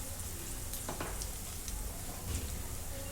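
Spices like coriander-cumin powder sizzle softly as they are sautéed in a pan, with faint stirring scrapes over a steady frying hiss.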